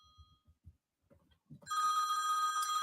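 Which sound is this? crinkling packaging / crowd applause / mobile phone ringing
mobile phone ringing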